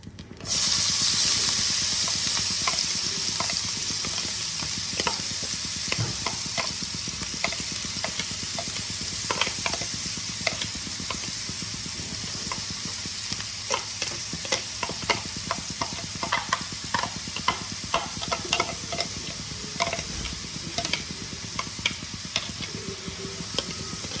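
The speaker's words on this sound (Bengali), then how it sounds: "এবার আমি ওই তেলেই দেখো একটা চপারে আমি পেঁয়াজ আর কাঁচা লঙ্কাকে গ্রেট করে নিয়েছি, ওগুলো আমি দিয়ে দিলাম।" Grated onion and green chilli hit hot oil for a Bombay duck dry-fish chutney, producing a strong, steady sizzle with frequent sharp taps and scrapes of stirring, close and without speech.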